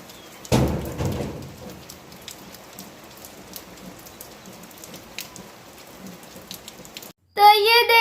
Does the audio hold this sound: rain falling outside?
yes